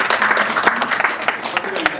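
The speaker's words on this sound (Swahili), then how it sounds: "makofi hapo kabisa" Audience applause at a public address by a government spokesperson in Kenya, a dense wash of clapping that runs steadily through the whole moment with speech mixed in.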